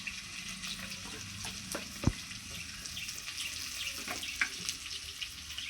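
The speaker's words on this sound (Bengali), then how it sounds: "এবার খুব সুন্দর করে আলুটাকে ভেজে নেব লবণ হলুদ দিয়ে" Potatoes frying in a pan with salt and turmeric, a soft steady sizzle with occasional clinks and stirring scrapes, fairly faint and close.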